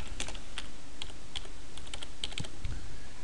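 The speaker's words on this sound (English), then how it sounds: "in the description box I'm typing mailing address" Typing on a computer keyboard while entering a field description, a close series of light clicky keystrokes in irregular bursts with brief pauses, with no talking.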